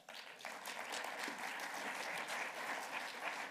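Conference audience at an MWC Los Angeles 5G event applauding a marketing executive's introduction, steady full clapping throughout.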